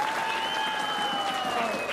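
A crowd at a BJP political rally in Darjeeling claps steadily for two seconds, a dense wash of applause heard from within the audience.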